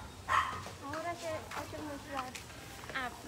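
A dog barks a few times at moderate distance near a house in Thailand, the yips and barks partly under people talking close by.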